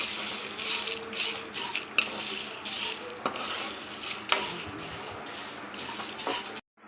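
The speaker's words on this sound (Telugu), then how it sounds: "అన్నీ ఒక్కసారి బాగా ఇలా కింద నుంచి పైన అలా బాగా మిక్స్ చేసేసుకోవాలండి" Cumin and homemade rasam powder spices fry and get stirred in a pan, with a soft continuous sizzle broken by scattered metallic scrapes and clinks of the spoon, heard close and at moderate volume.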